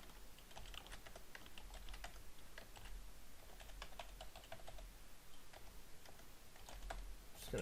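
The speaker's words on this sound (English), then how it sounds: "Just going to try to type in this stuff as fast as possible." Rapid typing on a computer keyboard while entering firearm background check information, a fast, continuous patter of close key clicks with no talking.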